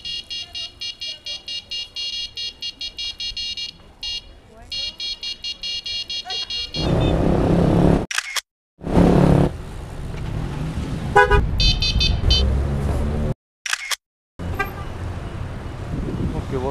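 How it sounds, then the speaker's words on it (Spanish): Loud, blaring horn fitted to a bicycle on a street in Salta, sounding in several long blasts with short gaps over traffic noise, after a stretch of rapid beeping and buzzing tones. "Bocina."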